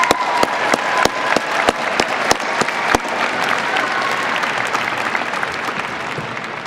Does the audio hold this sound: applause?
yes